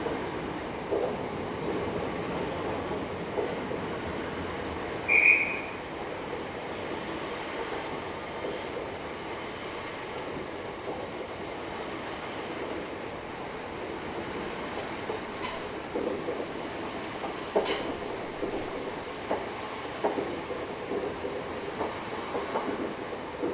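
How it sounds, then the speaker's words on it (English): An empty-stock electric multiple unit train made up of units 466018, 465013 and 031 rolls past at Tonbridge station, a continuous low rumble with faint wheel clicks and occasional brief squeals. "The second set of empty stock bound for Royal Tonbridge Wells has not long left Tonbridge carriage sidings."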